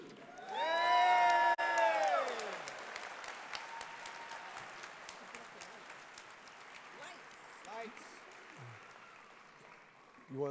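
A large homecoming audience at a school centennial celebration applauds and cheers loudly, with whoops and shouts at first, then the clapping thins into scattered claps and crowd murmur over about ten seconds.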